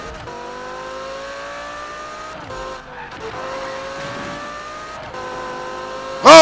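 A car in the 2015 Need for Speed drifts with steady revving engine tones and a sustained tyre squeal, close and loud, with gear-change dips and a sharp burst at the very end.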